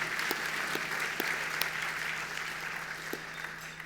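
Steady applause from a crowd at a benefit dinner, a dense even patter of many hands heard from some distance, moderately faint, with a few sharper claps standing out.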